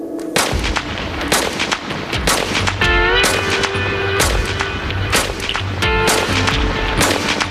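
Eight rounds fired straight up into the air outdoors: a string of sharp, loud gunshots with echoing tails, spaced irregularly over several seconds and heard alone at close range.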